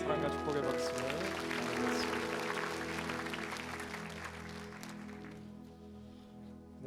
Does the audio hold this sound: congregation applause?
yes